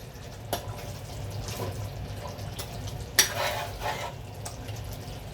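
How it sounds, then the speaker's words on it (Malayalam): A sardine curry with curry leaves is stirred in a pan, with a few distinct spoon scrapes and knocks over a low simmering sizzle. "ഇച്ചിരി കറിവേപ്പിലയും കൂടി ഇട്ടതിന് ശേഷം നമുക്കതൊന്ന് ഇളക്കി വെച്ച് കൊടുക്കാം"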